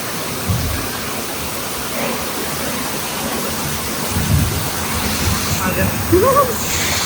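Steady, heavy rain pours down in a dense, even hiss, with faint voices now and then underneath.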